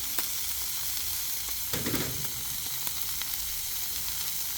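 Chicken and onions sizzling on a Blackstone griddle, a loud, constant close hiss with a brief scraping thump as food is pushed across the flat-top and small crackles throughout, with no voices.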